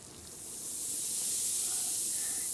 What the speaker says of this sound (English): It sizzles.